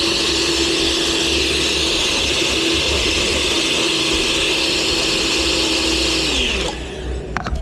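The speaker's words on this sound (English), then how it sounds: "He's using the blender." A blender runs loud and steady with a high whirring motor pitch for several seconds, then winds down and stops near the end.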